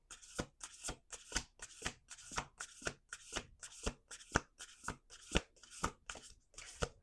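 Playing cards shuffled in a steady run of about fifteen crisp riffles, each a sharp papery burst, close and alone with no talk.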